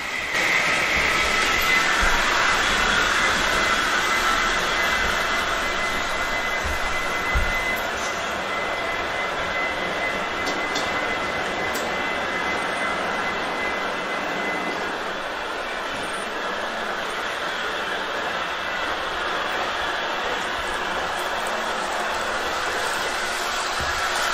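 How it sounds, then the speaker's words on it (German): Märklin H0 model train, a local passenger set of Silberling coaches with a cab car, runs continuously through a reversing loop in a hidden staging yard of a modern layout, a steady close rumbling whir with no talk. "Die ganze Märklin-Nahverkehrszuggarnitur fährt nun im rechten Schattenbahnhof durch eine Kehrschleife"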